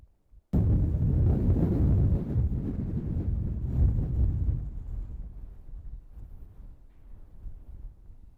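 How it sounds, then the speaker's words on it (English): Strong wind buffeting a microphone on the Thorpe Cloud hilltop in the Peak District, a sudden loud roaring gust that holds for several seconds before gradually easing into a softer, steady rush. "the wind has picked up, and I seem to have all of Thorpe Cloud to myself at the moment"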